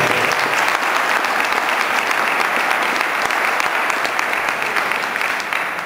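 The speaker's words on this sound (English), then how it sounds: "So if you give them a round of applause for putting this together." An alumni association kickoff audience applauds the event organizers with loud, sustained clapping from a sizable crowd, an even, unbroken roar of hands with no voices on top.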